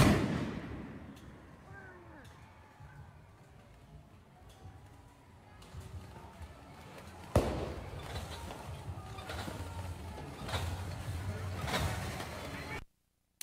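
Commercial-grade fireworks are thrown at federal officers during a night protest, with scattered bangs and cracks and one sharp, loud blast amid a noisy, murmuring crowd.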